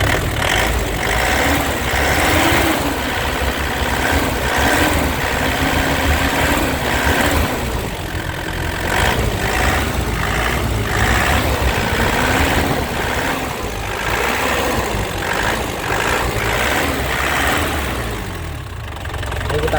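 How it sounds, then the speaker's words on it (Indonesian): The engine of a black 2008 GT car runs close by with a continuous, loud mechanical drone that rises and falls a little as the throttle is worked. "Kita gas, mesinnya nggak berasap sama sekali"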